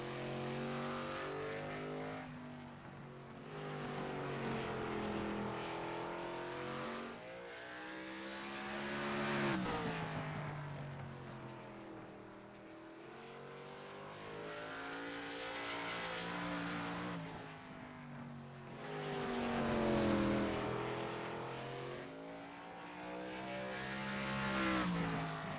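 A race car engine at the Southern National 200 drones through a lap after leaving pit lane, its pitch rising and falling in repeated waves as it accelerates and slows through the corners. The engine sounds moderately distant and carries no talk.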